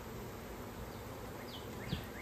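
Bees buzzing around an opened, messy hive: a faint, steady insect drone in the background with a few brief higher buzzes from individual bees passing close, no talking.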